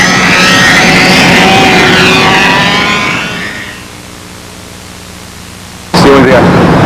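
Radio-controlled B-25 model airplane on a windy first flight, its loud motors roaring close and then fading over a few seconds before a sudden loud rush of wind noise returns.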